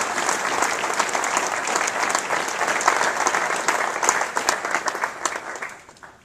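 Applause fills the hall at a NASA agency awards ceremony, dense steady clapping from a large audience that carries on for several seconds before tapering off.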